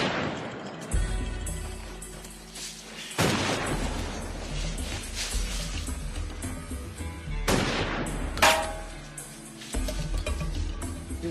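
Rifle shots ring out in several sharp, loud cracks spaced a few seconds apart, each followed by a rolling echo and a lingering rumble, with no talking.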